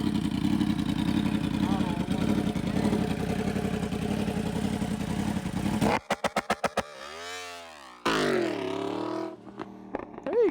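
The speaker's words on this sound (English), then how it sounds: "Now the R1 with the graves." A Yamaha R1M superbike fitted with a Graves exhaust revs loudly near the mic for several seconds, then launches with sharp staccato bursts and a rising, sweeping engine wail that fades as it pulls away.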